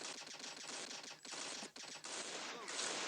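Rapid automatic gunfire rattles through a firefight in the shooter game Crisis Action, dense bursts with short breaks, fairly distant and steady.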